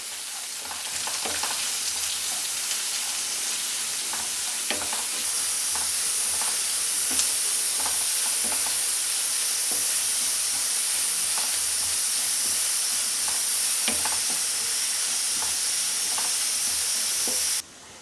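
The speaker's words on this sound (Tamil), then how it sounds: "இப்போ இது வெங்காயம் வதங்கட்டுங்க" Chopped onions sautéing in an oil pan while preparing a Pongal festival meal, a steady close crackling sizzle with bursts of stirring, continuous and even for the full length with no talking.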